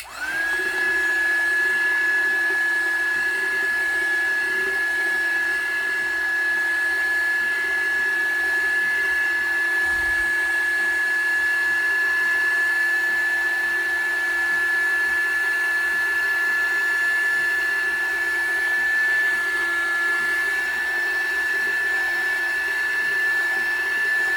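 A heat gun or hair dryer blows hot air onto a tumbler cup in a steady, loud, continuous whine and whoosh that holds for the full span, alone and without speech.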